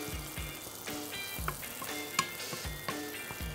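Soya keema frying with chopped onion and tomato in a pan, giving a steady, soft sizzle with scattered light clicks and ticks from stirring, close and with no talking.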